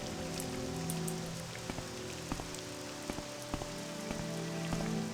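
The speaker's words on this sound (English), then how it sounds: "And 6 hours later, as the crow flies, and it is still raining." Steady rain falls in the video game Morrowind, a continuous hiss with scattered drip taps and a low constant hum beneath, moderate and even throughout.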